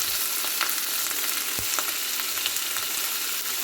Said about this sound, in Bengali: বোনলেস চিকেনগুলো তেলের মধ্যে দিয়ে দিচ্ছি আমি।